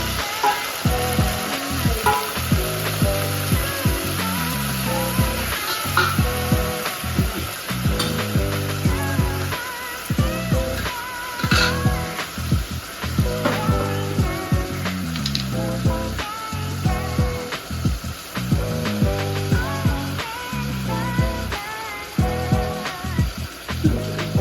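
Mutton bones and five or six green chillies fry in a pan, a constant crackling sizzle broken by frequent scraping and clattering stirs, with no one talking.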